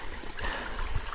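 Fresh water trickles from a tap on a fastpacking trip along the Wicklow Way in Ireland, a steady, close, continuous splashing flow lasting about a second with no talk.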